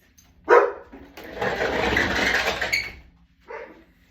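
Pet dogs indoors bark at a passerby outside: a sharp bark, then a longer run of excited barking lasting a couple of seconds, and one more short bark after a pause, fairly close and loud.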